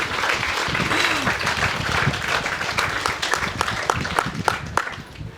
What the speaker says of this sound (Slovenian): lahko si še enkrat zaploskate